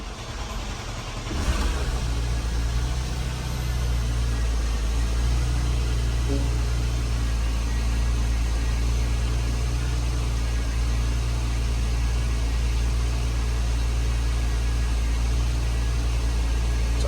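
A Porsche Panamera engine runs at a raised idle after a high-pressure fuel pump replacement: a loud, steady, close engine drone that holds for the whole stretch, with a brief surge near the start.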